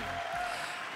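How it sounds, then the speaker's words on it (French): Audience applause for a comedy stage show, a dense continuous wash of clapping at moderate level held for about a second with no voices over it. "attendre sous vos applaudissements Hélène Bonhomme."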